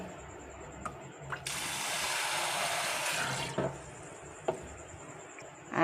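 Running tap water gushes steadily into a sink for about two seconds while soaked soy chunks are washed and rinsed, with faint clatter before and after.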